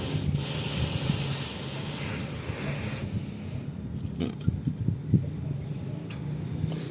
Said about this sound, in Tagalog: ang gagawin nyo lang is pagka-spray nyo